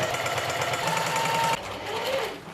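A secondhand sewing machine quilting fabric whirs in a steady, loud, rapid stitching rhythm for about a second and a half, then cuts to a lower, softer mechanical hum that fades toward the end.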